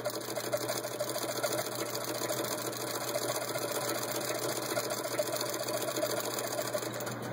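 A vintage Singer sewing machine fitted with a pinking attachment cuts leather with a fast, even mechanical chatter over a low motor hum, steady and moderately quiet throughout.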